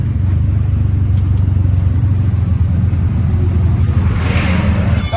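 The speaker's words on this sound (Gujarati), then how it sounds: "ફૂલ ટ્રાફિક છે મિત્રો" Road traffic in Morbi, Gujarat is a loud, steady rumble of passing car and vehicle engines, constant and close, with a rising whoosh near the end.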